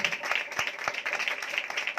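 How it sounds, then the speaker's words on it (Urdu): A church congregation at a Sunday live meeting claps loudly and steadily for God, a dense, even patter of many hands with a few sharper individual claps standing out. "آئے اپنے خدا کے لیے زوردار تالیاں بجائیں"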